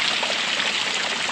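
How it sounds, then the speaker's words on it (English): Heavy rain pours steadily outside a horse barn at night on top of snow, a dense continuous hiss of falling water with a trickling, running edge, loud and close with no voices. "It is just pouring rain, and it is gonna do this all night."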